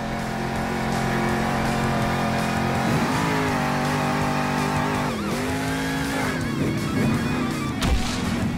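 Monster truck engine revving in the Monster Jam Steel Titans video game, Grave Digger Fire in a canyon backflip championship, a loud sustained engine drone with pitch sweeps as the truck accelerates and lands, with tire squeal.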